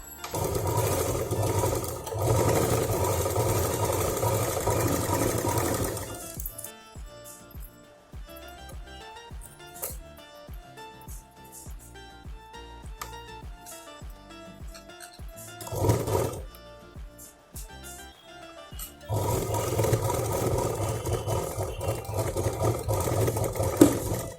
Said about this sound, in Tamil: 1 இன்ச் கிளாத் ஒன்று எடுத்து அதில் பைப்பிங் வச்சு தைச்சிடலாம்